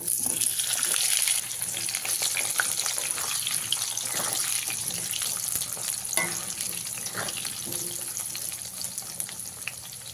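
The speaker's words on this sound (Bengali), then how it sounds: "এবার ওই একই তেলে কেটে রাখা আলুগুলো আমি ভেজে নেব" Cut potato pieces fry in hot oil left over from frying rohu fish, a steady moderate sizzle with occasional clinks and stirring sounds, a brief louder stretch at the start.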